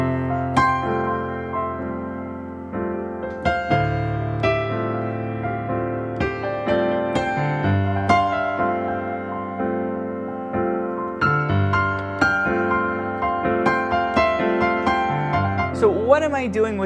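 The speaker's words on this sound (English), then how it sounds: "the final technique is the harmonize technique, and harmonies sound like this." Electric guitar plays harmonized double-note lines over one chord, ringing phrases with steady plucked attacks and a bend near the end, heard alone without talk.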